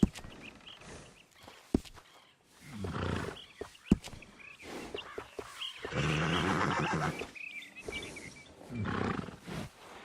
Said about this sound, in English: Good looking horse there.